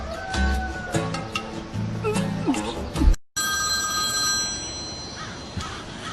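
A telephone rings with steady, bright electronic tones after a brief clatter of household noise, the ring continuing on its own for several seconds.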